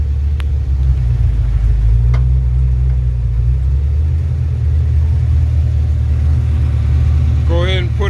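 A Truckstang's engine idles in neutral with a heavy, continuous low rumble and an uneven flutter, loud and close, with a short whine near the end.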